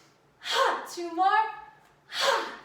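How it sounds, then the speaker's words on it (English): Two deep breaths, an inhale and a strong exhale, come near and loud during a beginner vinyasa yoga flow, with a calm voice speaking between them. "Take a deep breath. Blow it out."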